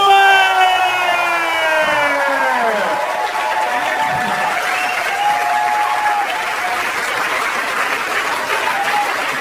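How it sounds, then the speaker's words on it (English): Stand-up comedy audience bursts into loud, sustained applause and cheering welcoming Amy Schumer on stage, dense clapping that fills the room steadily, with a few early whoops from the crowd. "Put your hands together for Amy Schumer!"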